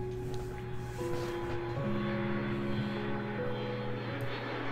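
Airplane taking off in the Mini Airways video game, a faint steady engine drone with layered tonal hums that shift and stack over a few seconds, no talk.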